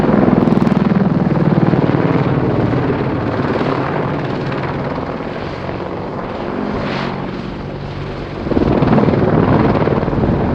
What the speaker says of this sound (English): The bunt sees the aircraft pitch from 90 degrees nose up to 90 degrees nose down